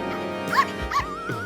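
Cartoon dogs in a Motu Patlu episode yelp and whimper with high, sliding whines and short yips over a steady music bed, close and fairly loud.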